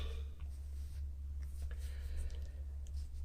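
Adhesive tape being wrapped tightly around a hand-made analogue interconnect cable, a soft continuous scratchy rustle over a steady low hum, close and quiet, with no talking.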